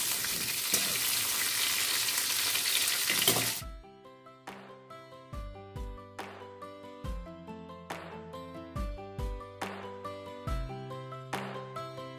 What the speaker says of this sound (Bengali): উচ্ছে, গাজর, বিনস একসঙ্গে রান্না করছি। একটু পাঁচফোড়ন, শুকনো লঙ্কা দেবো